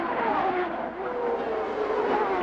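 CART race cars at full speed down a straightaway toward heavy braking for turn 3, a loud, steady engine roar holding close and continuous throughout with a slight dip midway.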